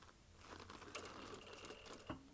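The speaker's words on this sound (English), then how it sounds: "So I'm stitching right over the pin, so that seam should match perfectly." A sewing machine stitches a leather jacket seam, its needle chattering in a quick, steady run of close, quiet clicks, with a brief clunk near the end.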